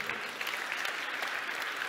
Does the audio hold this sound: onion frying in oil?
no